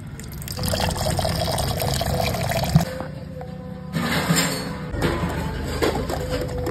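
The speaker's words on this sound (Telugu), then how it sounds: "పెరుగైతే దీన్ని వేసేసుకుని ఈ కవంతో బాగా చిలుక్కుందాం." Continuous sloshing and swishing of curd being churned with a wooden churner, with rhythmic splashing that pauses briefly and then resumes.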